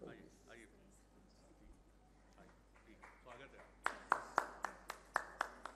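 An audience applauding at a stage event in Bilaspur, scattered at first, then a run of sharp, fairly loud claps near the end, heard under a speaker's voice on a PA.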